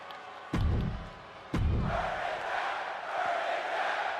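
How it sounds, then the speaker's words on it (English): A wrestling arena crowd in WWE 2K22 roars and chants in a sustained wash, punctuated by two sharp heavy slams early on. "Crowd chanting, "Burn it down.""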